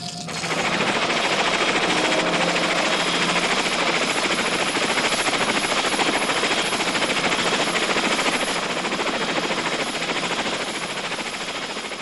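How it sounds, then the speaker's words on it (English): Helicopters fly low over jungle during wartime, spraying both banks of a river. A loud, continuous mechanical roar with rapid rotor chop holds steady throughout and tapers only slightly at the end. "Helicopters spray the jungle on both sides of the river."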